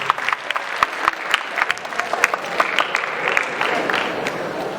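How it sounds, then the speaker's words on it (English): An audience at a school cleanliness campaign event claps steadily in a round of welcoming applause, the dense, even patter holding for several seconds at a moderate level, with no talk over it. "Please welcome him with a round of applause."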